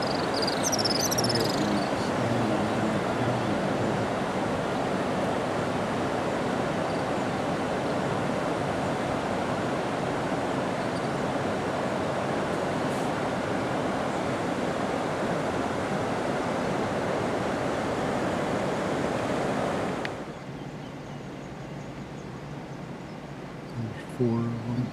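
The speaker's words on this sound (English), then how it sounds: "Look at all that water flowing." Water flows steadily in a river at Kruger National Park, producing a broad, continuous rushing wash that holds even for about twenty seconds before dropping to a quieter background.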